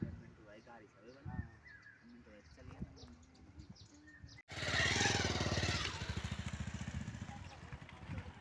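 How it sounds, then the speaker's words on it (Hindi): A motorcycle is ridden along a narrow path toward Buglan village, its engine rising to a loud, close, steady rumble halfway through after a stretch of talk, birds and quieter engine noise. "ये जा रहे हैं मोटरसाइकिल में सीधा बुगलन तक"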